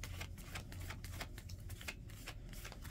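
Playing cards for a card reading are shuffled by hand behind a table in a quick series of soft riffling, rustling bursts, close up with no talking.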